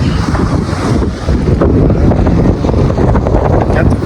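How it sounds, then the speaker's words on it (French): Strong, continuous seaside wind at Monastir buffets the microphone with loud, roaring gusts that smother everything else. "il y a tellement de vent, je ne sais même pas si ma voix est audible"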